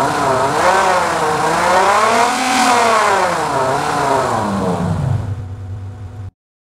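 A granular synthesizer layer in the Igniter plugin plays a loud, dense engine-like roar whose pitch sweeps up and down in wavering bends, then drops and fades into a low rumble before cutting off abruptly, no talk.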